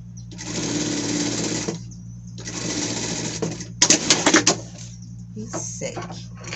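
A sewing machine stitches a seam on a pet skirt, running in steady bursts of motor whir with pauses between, and a sharper rattling run near the middle; a steady low hum sits underneath.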